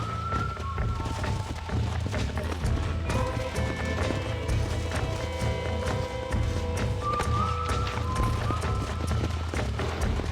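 Horse hooves galloping at a steady rhythm in the Red Dead Redemption video game, loud and continuous over music and ambient game sound.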